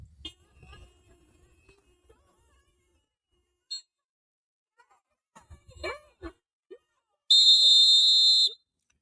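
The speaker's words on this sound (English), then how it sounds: "What kind of grown ass man walks around with a whistle and whistles at law enforcement?" A shrill whistle is blown at law enforcement during an immigration arrest protest, one loud sustained blast of about a second near the end, after scattered faint voices and noises.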